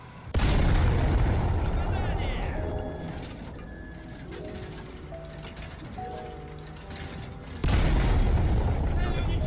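Loud booming blasts of a tank fuel explosion in War Thunder, one at the start and another near the end, with a quieter mechanical rumble and faint clanks between them.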